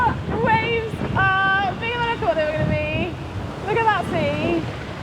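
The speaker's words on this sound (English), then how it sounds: "getting wave washed at the bottom of the route" Sea waves wash against rocks at the base of a sea cliff climbing route, a steady roaring surge with wind buffeting the microphone, while people talk loudly over it.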